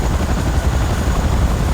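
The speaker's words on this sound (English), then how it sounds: "But we also have a transport helicopter looming, so that's first priority." A transport helicopter in the video game Command & Conquer Renegade gives a loud, steady, close rotor thump with a deep continuous drone and no voices.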